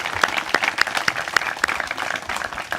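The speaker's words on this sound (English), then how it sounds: "If we can turn and give them a round of applause for all of the work that's gone into making today possible." Audience applause at a search team pairing ceremony honoring staff: dense, close clapping from a crowd, lively and uneven with sharp individual claps standing out, lasting throughout.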